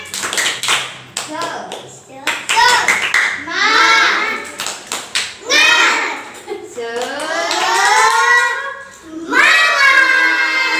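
Children in an Islamic elementary school social studies class perform a rhythmic clapping chant, loud patterned claps alternating with shouted group chanting, close and energetic.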